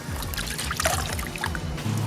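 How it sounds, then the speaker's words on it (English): Wet microfiber towel being wrung out over a bucket of water during car detailing, a short burst of splashing and trickling water, close and continuous. "Wring it out a little bit and see what we can do"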